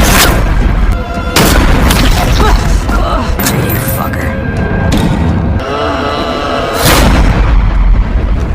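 Loud gunshots from a sniper in the 2015 film Desierto, several heavy booming cracks spaced a few seconds apart over a rumbling dramatic soundtrack.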